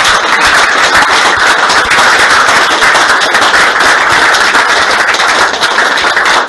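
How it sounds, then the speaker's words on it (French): A dense, steady wall of loud applause fills a church gathering of men, with continuous rapid clapping that holds at an even level from start to finish and no talk over it. "Applaudissons pour notre Seigneur."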